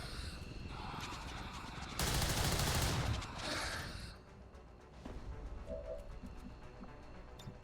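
A burst of gunfire in XCOM 2 Long War of the Chosen, a loud dense volley lasting about a second, then lighter impact and debris noise over a steady ambient game bed.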